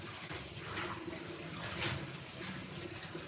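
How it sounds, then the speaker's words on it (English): Water runs steadily from a tap while turnip greens are washed in a sink, making a continuous broadband gush at moderate level with no talking. "It's up to you how many times you want to wash your greens."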